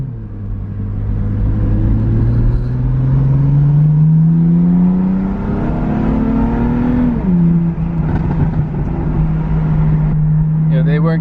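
A car fitted with an Active Autowerke equal length mid pipe gives a loud, close exhaust drone that climbs steadily in pitch under acceleration, drops sharply at a gear change, then settles into a steady cruising hum.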